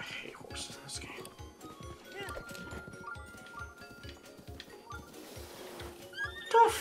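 A horse in The Legend of Zelda: Breath of the Wild trots with a steady, rhythmic clip-clop of hooves, and a short neigh comes near the end, all fairly quiet.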